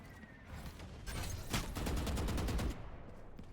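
Video game gunfire, a dense rapid burst of automatic shots lasting a couple of seconds, loud and close, with a few scattered shots before and after.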